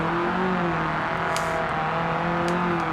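Engine of a rear-wheel-drive car in the BeamNG.drive video game while it drifts, a steady droning whine at constant pitch with faint tire noise and brief high squeals, loud and continuous, no speech.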